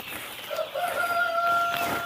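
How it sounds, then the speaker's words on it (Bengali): Young chickens, about twenty days old, inside a poultry house on a large tiger-chicken farm, giving steady overlapping chirps and clucks nearby with a high sustained peeping tone, no talking. "এ মুরগির এগুলা বিশ দিনকার বাচ্চা"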